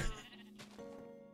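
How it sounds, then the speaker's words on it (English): Sheep in a modded Minecraft game bleating in one short wavering call, faint and clear on its own with no voices over it. "sheep in the wrong pen."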